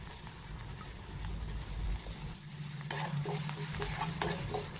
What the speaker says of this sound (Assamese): এইখিনি লৰাই অলপ পৰ ভাজি ল'ম